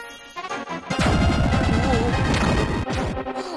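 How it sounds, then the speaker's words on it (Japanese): The Ionazun explosion spell from Dragon Quest III bursts out as a loud, crackling, rumbling blast. It follows a brief lead-in, roars for about two seconds, then breaks into scattered rattling bursts. "おなじみすぎる音がいいね。 イオナズンやっぱ強いな。"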